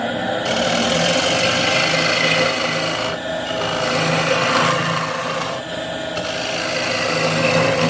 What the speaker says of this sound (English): you're going to position the gouge in, and you're going to only follow the outside curve